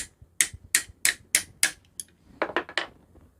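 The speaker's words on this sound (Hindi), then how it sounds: "इसको ऊपर खींच लिया और इस हिस्से को अपन इसमें ठोक देते हैं।" A hammer drives a part into a sewing machine: a steady run of six sharp, close metallic taps, then a brief pause and a quicker cluster of three or four lighter knocks.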